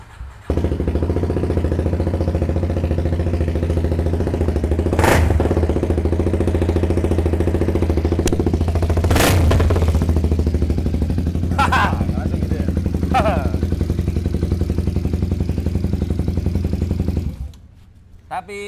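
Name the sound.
single-cylinder motorcycle engine with racing exhaust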